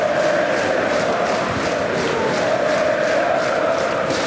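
Home crowd at a Helsingborg football match, Helsingborgs IF against Djurgårdens IF, producing a steady, dense roar of applause and cheering from a large stadium, with no break.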